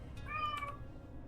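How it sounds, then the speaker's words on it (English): A house cat gives one short, faint meow indoors with a heater running, the single call rising and falling over a low background hum. "Also, sorry for the cat."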